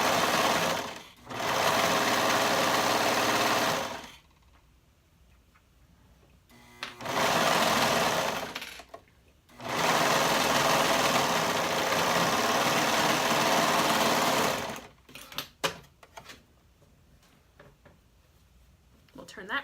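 Sewing machine stitching a tank bodice seam, running in two long sustained bursts of steady whirring with pauses between, then a few short clicks and brief stops near the end, close and loud.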